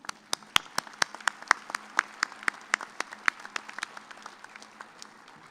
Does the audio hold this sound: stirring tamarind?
no